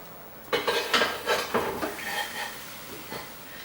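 A small metal pot lands on a stove with a series of close clanks and rattles, loudest at first and then settling into lighter knocks.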